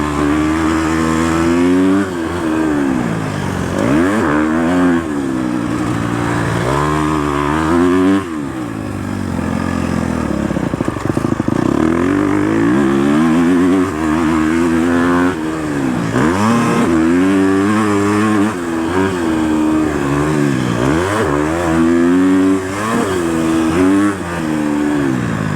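A Husqvarna FC250 dirt bike engine revs hard and close, rising and falling in repeated throttle sweeps over a rough idle, loud and alone with no voices.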